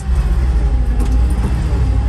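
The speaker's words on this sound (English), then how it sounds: "if I just let off and hit the button, it'll shift right into the next gear" A motorcycle engine running steadily under load with a deep, loud drone, then a brief shift in tone as it drops into the next gear without the clutch, no talk.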